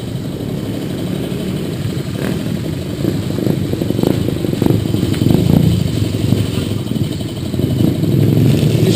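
A motorcycle engine idles and rumbles on a busy town street, a steady close drone that swells slightly toward the end amid general traffic clatter.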